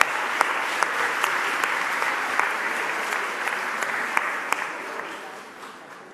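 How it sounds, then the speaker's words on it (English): Sustained applause from a town hall audience, a dense even wash of clapping with a few sharper claps standing out, holding steady before tapering off toward the end. "Give them a round of applause for that."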